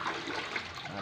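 Liquid fertilizer swirls and sloshes in a container as it is stirred, a close, continuous watery churn.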